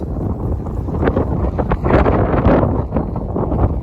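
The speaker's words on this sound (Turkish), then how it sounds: "Rüzgar öbür tarafa vuruyor." Strong wind buffets the microphone in a continuous, loud roar with gusts rising and falling throughout, no voices heard.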